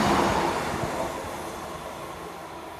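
A Class 150 train rushes past close by at Dawlish with a loud broadband roar of wheels and rails. The noise is strongest at the start and fades slowly over a few seconds.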